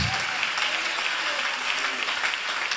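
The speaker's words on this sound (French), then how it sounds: "acclame Jésus-Christ" A church congregation claps steadily in dense, sustained applause with no pauses, loud and close throughout.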